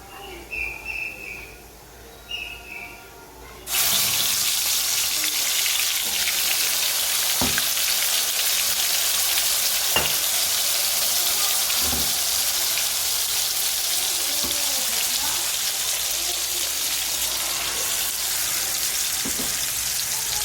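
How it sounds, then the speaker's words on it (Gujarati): Cumin seeds in hot oil, with a tomato, chili, garlic and onion gravy poured in: after quiet opening noises, a sudden loud, steady hiss of frying starts and continues for the rest of the clip, with occasional soft stirring taps. "જરીક નાખીશું જીરું. જીરું તતરી જાય એટલે આપણે નાખી દઈશું ગ્રેવી"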